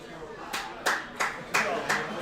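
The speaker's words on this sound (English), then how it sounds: "Clap if you think it's Steph Curry" A handful of diners in a restaurant clap in short, scattered bursts, about five separate clusters of claps at moderate distance against a faint room murmur.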